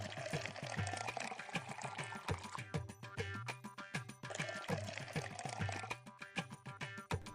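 Water pours steadily into a vessel, with a rhythmic gurgling splash that goes on for several seconds, close and fairly clear, and no speech over it.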